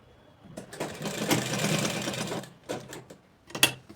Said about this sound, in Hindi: इस तरह सिलाई लगा दी हमने